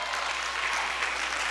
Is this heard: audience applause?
yes